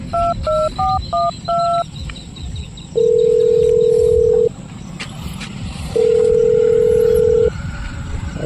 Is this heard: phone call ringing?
yes